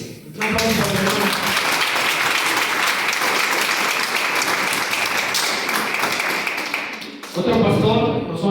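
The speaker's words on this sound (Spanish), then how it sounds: "Un aplauso para el hermano." Audience applause at a church conference for a visiting pastor, a dense, loud burst of clapping lasting several seconds, with a voice speaking briefly before it starts and again as it fades.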